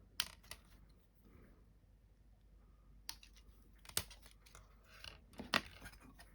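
A sprue cutter snips plastic model parts for a Millennium Falcon build from the sprue, giving several sharp, close, quiet clicks spaced irregularly over light handling noise.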